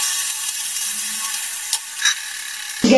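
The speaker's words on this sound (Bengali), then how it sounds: "গ্যাসের ফ্লেমটা হাইতে রেখে আমি মাছগুলো ভেজে নিচ্ছি।" Small mourola fish fry in a pan over a high gas flame, giving a steady bright hiss with a few faint clicks. A sharp clatter of utensil on pan comes at the very end.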